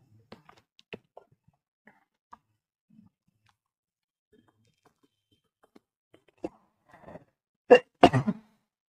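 Mostly quiet with faint clicks, then a short cluster of harsh coughs near the end, close to the microphone.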